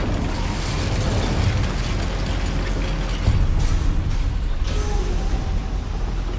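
A fire spell cast in Hogwarts Legacy in a goblin mine: a sustained roaring, crackling rush that runs throughout with a louder burst near the middle, full and close, with no voices.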